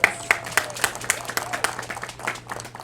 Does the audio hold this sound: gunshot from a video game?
no